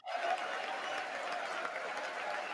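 Loud, sustained applause fills a large chamber at the 2023 State of the Union address, a dense even roar of clapping heard from a broadcast feed, steady throughout after a sudden start.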